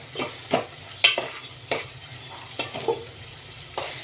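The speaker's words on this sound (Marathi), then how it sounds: "कोलंबी आपण याच्यामध्ये व्यवस्थित मिक्स करून घ्यायची।" A spoon scrapes and stirs prawns into frying curry masala in a pan, with repeated close, sharp scraping strokes over a low, soft sizzle.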